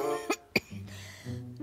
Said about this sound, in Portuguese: Essa tosse não quer me largar mesmo.